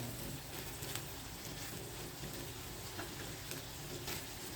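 Bitter gourd (ampalaya) is added to corned beef frying in its own rendered fat, producing a steady, close sizzle with faint crackles throughout.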